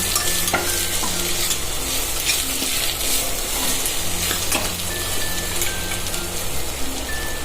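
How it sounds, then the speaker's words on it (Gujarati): Vegetables including cabbage, corn kernels and chopped green chilli sauté in a hot pan with a continuous loud sizzle and frequent stirring scrapes and taps, steady throughout. "બધું વેજીટેબલને એકદમ સોતે કરી લઈશું"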